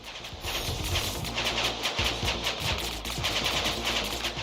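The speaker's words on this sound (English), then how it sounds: "We're gonna launch some missiles at this dude." Missiles launched at a boss in a video game: a steady, loud barrage of repeated launch bursts and impacts, with rapid pulsing rhythm throughout and no speech.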